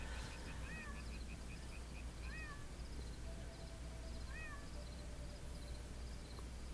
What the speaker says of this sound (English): oh, there's a kitty here.